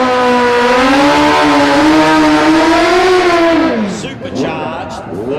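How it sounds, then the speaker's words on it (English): Supercharged 1340 cc Suzuki B-King motorcycle at a drag race screams loud and close at high, steady revs, the pitch holding and slowly rising before it drops away sharply as the bike pulls off, leaving a fainter fading whine. "1340 cubic inch B King Suzuki."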